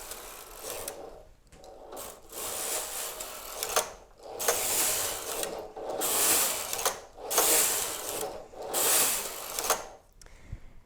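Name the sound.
knitting machine carriage moving across the knitting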